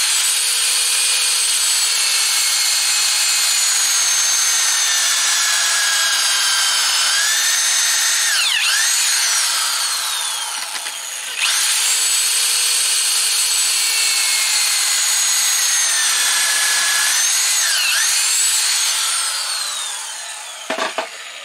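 A drill whines steadily at high pitch, cutting wood for a shed frame continuously with brief dips and pitch swoops, then resumes; no voices.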